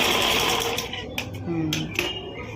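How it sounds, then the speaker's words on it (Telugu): A sewing machine stitches the neck of a frock's body piece, running as a steady continuous whir with brief mechanical clicks, and faint talk can be heard over it. "frock body part neck stitch చేసుకుంటున్నాను"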